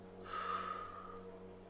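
A single breathy exhale during a calm relaxation ritual, close and soft. It rises quickly, then fades over about a second in a quiet room, with no speech.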